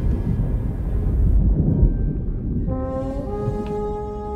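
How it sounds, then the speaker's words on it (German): A ship's horn in the pirate video game Sea of Thieves blasts a loud, sustained tonal note that begins partway through, preceded by a low rumbling wash. "Nochmal tröten."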